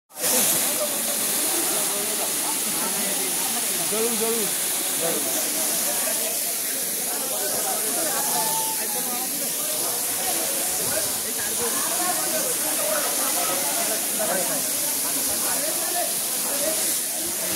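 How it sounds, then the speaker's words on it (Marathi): A monsoon waterfall on the Nakhind trek roars in a dense, unbroken wash of water noise close by for the whole stretch, with a voice speaking intermittently above it. "हा धबधबा आहे."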